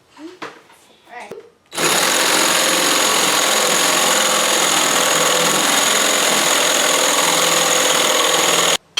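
Two power drills run together while a birdhouse is being built, giving a loud, steady, grinding whine that lasts about seven seconds after brief voices and handling sounds, then cuts off abruptly.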